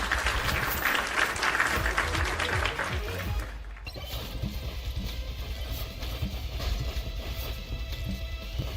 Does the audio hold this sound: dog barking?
no